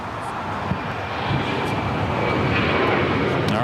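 An Emirates jet at LAX fills the air with a broad, steady engine rumble that grows slightly louder toward the end, sustained and close throughout.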